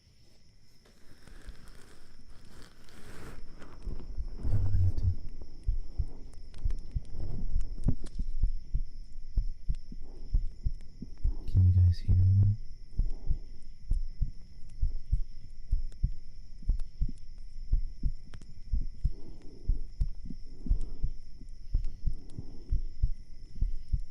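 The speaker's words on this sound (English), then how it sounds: "I'm going to do some heartbeat now." Heartbeat sounds made for an ASMR recording on a binaural 3Dio microphone, a soft continuous stream of low rhythmic thumps and throbbing, close and steady throughout, with a brief spoken line from a voice near the start.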